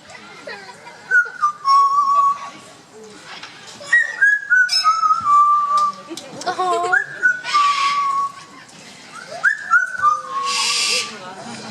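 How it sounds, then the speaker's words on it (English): A parrot named as Mozart at Parrot Paradise whistles a made-up tune in a run of clear rising and falling phrases, loud and close, with bursts of crowd noise in the gaps between phrases. "Now he also does quite like to whistle."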